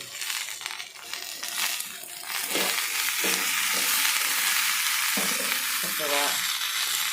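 Okra frying uncovered in a pan with turmeric, a continuous close sizzle broken by scraping and clinking stirs of a spatula.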